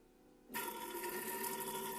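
A Geberit AquaClean Alba bidet toilet's nozzle rinsing itself, starting abruptly after half a second of quiet as a close, steady hiss of spraying water with a faint mechanical whine underneath.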